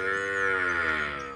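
A Nelore cow lows in a corral with one long, loud, steady moo close by, rich and sustained for over a second.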